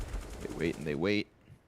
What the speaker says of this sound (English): Fear just going to keep trying to pump those bullets through the walls